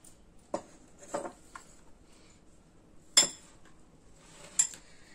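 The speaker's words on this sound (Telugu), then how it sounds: "నెక్స్ట్ మనం బ్రెడ్ వేసుకుని ఇవన్నీ కలిపి మిక్స్ చేసుకుందాం" Bread pieces are stirred into beaten egg in a bowl for a bread omelet, with a few scattered clinks of a utensil against the bowl. The sounds are sparse, close by and otherwise quiet, with no talk.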